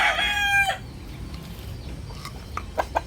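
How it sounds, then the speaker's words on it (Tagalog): A gamecock rooster crows loudly and close in one drawn-out call at the start, followed by quieter clucks and rustling. "Ang gandang manok nito"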